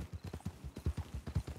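Horse hooves clip-clop in a roleplay video game, a quick, steady run of hollow thuds at close range, the rhythm of a walking or trotting horse with no talking.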